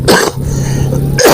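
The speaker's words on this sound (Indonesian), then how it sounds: "Batuk" A single harsh cough bursts out close up, followed by a rough throaty rasp and a second short cough at the end.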